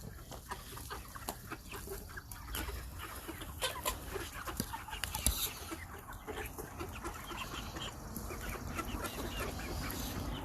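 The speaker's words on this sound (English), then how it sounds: "the chickens are 11 weeks old today" Eleven-week-old backyard chickens cluck and chatter steadily for about ten seconds, with soft overlapping calls close by and no one speaking.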